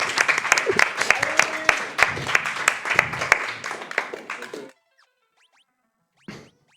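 Audience applause with dense clapping and some cheering at an esports speedrun event, loud and sustained for several seconds before cutting off abruptly, followed by near silence and a brief burst of noise near the end.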